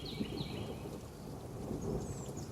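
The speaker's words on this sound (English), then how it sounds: "But we are listening to nature sounds." Recorded thunderstorm nature sounds playing back, a steady soft wash of rain with low thunder rumble and faint bird chirps at the top, quiet and unbroken, no talk.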